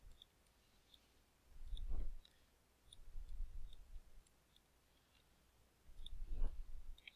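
A computer mouse clicks lightly while the clone stamp tool is used for photo editing, giving scattered faint ticks at uneven intervals, with soft handling noise between them in a quiet room.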